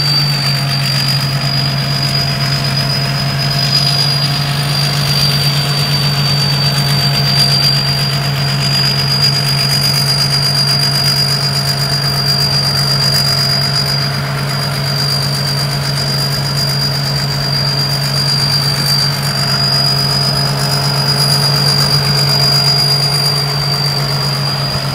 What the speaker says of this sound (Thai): แหมเสียงเทอร์โบดังเพาะนะครับ